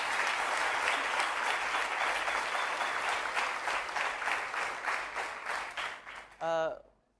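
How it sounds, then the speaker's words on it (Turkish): Studio audience applause on a Turkish quiz show, dense and steady, then fading out before a short burst of speech at the end. "Buna bir alkış alalım o zaman"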